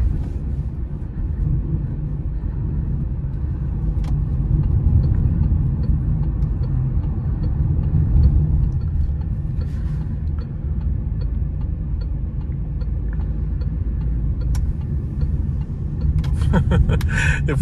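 2022 Citroën C4 Cactus Feel driving over potholes, a steady low road and engine rumble inside the cabin with occasional soft knocks and rattles from the bumps.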